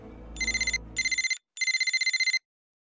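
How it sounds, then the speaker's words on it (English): An in-game telephone rings in the video game Chronicles of Mystery: The Tree of Life, with three bursts of bright, trilling electronic ringing separated by short pauses, loud and clean after a brief low rumble. "Okay, phone call."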